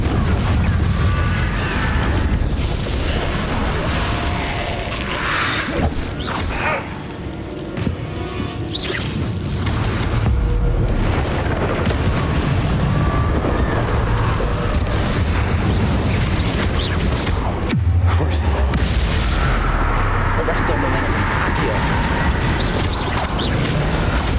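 Blasting-spell explosions in Hogwarts Legacy on Nintendo Switch, repeated booms, whooshes and crashes across a loud, busy stretch of spell combat with no pause.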